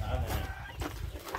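Chickens on a rural farm where eggs are being hatched cluck softly in a farmyard, with chick peeps and low murmuring voices mixed in nearby.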